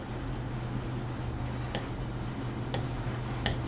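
Chalk or marker scratching on a classroom board, with a few short, distinct strokes coming in quick bursts over a low steady background hum, fairly faint and close.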